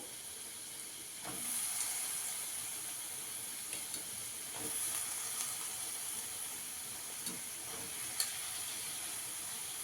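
Ridge gourd pieces dropped into a hot pan, settling into a steady, close sizzle and hiss of frying that swells in short bursts, with no voices.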